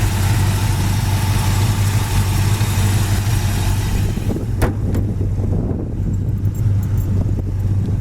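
A built 400 small-block V8 in a 1972 Chevy Nova SS runs at a steady idle, a loud continuous low rumble with no talk, and a faint sharper tick lands near the middle.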